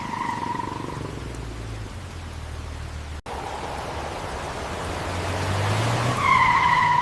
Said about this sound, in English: Suddenly, a shiny black car stopped right in front of me.